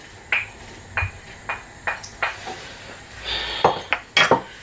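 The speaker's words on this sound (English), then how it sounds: "I'm just going to pop that back into the pot" Chunks of cooked ham hock meat going back into a pot of homemade soup, heard as a series of short, sharp clinks and knocks against the pot at irregular intervals, close by with no talking.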